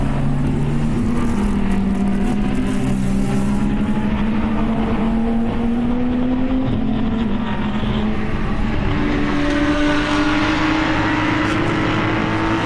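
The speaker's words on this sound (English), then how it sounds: "Here they are racing towards turn number 1." GT race cars at Autodrom Most roar loudly and continuously as the pack charges toward turn one, engines rising and falling in pitch with overlapping passes and no talk.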